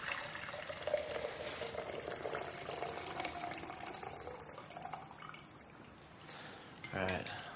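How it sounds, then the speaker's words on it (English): Preheating water is poured off from a CafeSolo coffee brewer and splashes into a vessel for several seconds, fairly quiet, ending with a brief clatter. "we're ready to pour off the water that's been preheating the CafeSolo"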